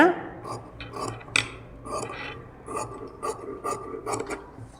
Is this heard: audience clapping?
no